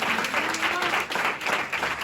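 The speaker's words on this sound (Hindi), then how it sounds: "उनके लिए भी जोर से तालियां बजाओ, जोर से बजाओ" A church congregation claps loudly during a sermon, dense continuous applause with a slightly pulsing rhythm, close and filling the room, with a voice faintly underneath.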